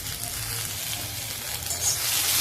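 Peanut chutney with garlic stir-fried in a pan, a dense close sizzle that swells slightly toward the end, with no voices.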